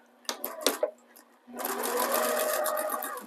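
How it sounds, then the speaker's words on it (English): Sewing machine backstitching a quilt block seam, a few quick stitch bursts followed by a sustained run of rapid, close, loud stitching. "At the front, I am going to backstitch just once"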